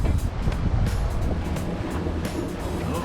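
Wind blowing over a sailboat on foggy water near the Cranberry Islands, a steady, loud rush of wind across the microphone with low rumbling and splashing underneath.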